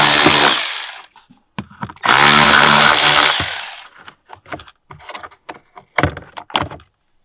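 Plastic lag screws being removed with a 10mm socket under the seat of a Colorado/Canyon pickup, with two long, loud whirring runs of a power driver followed by a cluster of short clicks and knocks, close by.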